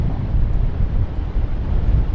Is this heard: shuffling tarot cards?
no